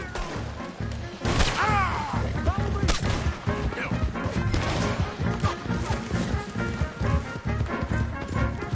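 Gunfire erupts in Red Dead Redemption 2 during a horseback escape, with sharp shots and crashing impacts scattered over galloping hooves, dense and loud throughout.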